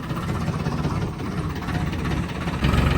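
A tractor engine runs close by with a steady low chugging rumble, growing slightly louder near the end.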